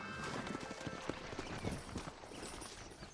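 Horse hooves clip-clop at a steady walking pace on a dirt trail in Red Dead Redemption, moderately close and fairly quiet against faint ambient background.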